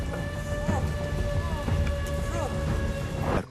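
Heavy rain pours steadily close by in a storm, a dense continuous roar with a low rumble of thunder underneath throughout.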